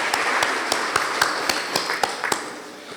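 Applause for a secondary school team at a school competition: a thin scattering of claps, with sharp individual hand claps standing out at irregular intervals over faint background noise.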